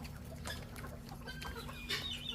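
Farmyard chickens clucking close by in a quiet outdoor setting, several short soft clucks scattered over a couple of seconds with faint background noise.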